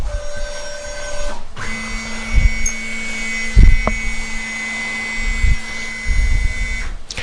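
Steady mechanical whir of a CNC machine moving to its tool change position with a sustained tone, punctuated by a few dull clunks and thumps as parts shift into position.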